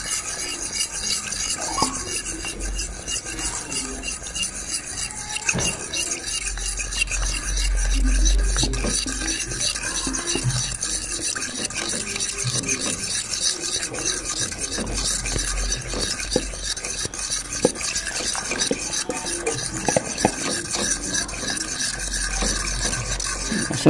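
Pastry cream being whisked in a pot on the stove while hot milk is stirred in, giving a steady scraping, rasping stir that continues in close, even strokes throughout with no talk.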